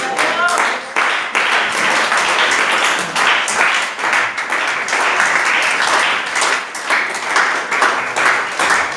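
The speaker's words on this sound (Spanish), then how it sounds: "Denle un aplauso al Señor." Church congregation applauding during a Sunday morning service, steady dense clapping that holds for several seconds, with voices and shouts mixed into the crowd.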